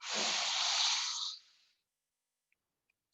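One long, breathy inhale during an ab vacuum exercise against a wall, close and soft, lasting about a second and a half before fading into silence.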